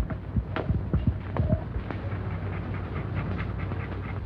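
A puppy pants inside a box in a 1934 comedy short, with quick soft breathy huffs and a few thumps under a low hum of old film sound.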